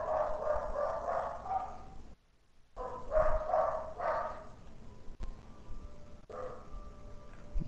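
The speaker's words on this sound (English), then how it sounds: "Oh, here she goes howling." A dog barking and howling at another dog, a run of rhythmic yips and barks that breaks into drawn-out howls, moderately close, with a short gap partway through.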